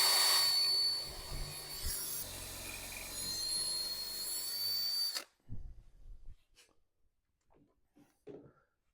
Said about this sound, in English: And we'll get that first hole drilled.